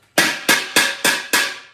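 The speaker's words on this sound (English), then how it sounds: "I'm just going to tip this out from this morning." Old coffee grounds are knocked out of a macchinette stovetop coffee pot in five sharp, loud, close raps, evenly spaced about a third of a second apart.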